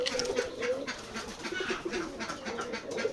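Pigeons coo steadily and softly at a village pigeon farm in Betikhola, Keshabpur, Jessore, where many local and foreign breeds are kept. The low, rolling calls overlap in a continuous chorus with no talk.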